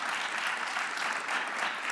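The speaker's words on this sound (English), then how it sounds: "Let's give those folks a round of applause." A conference audience at a music summit in Boise applauds steadily, a dense even wash of many hands clapping with no pauses across the short stretch.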